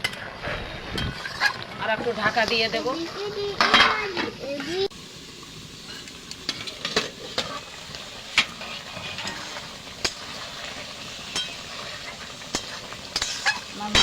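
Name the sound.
stirring and simmering potato and fish curry in a pan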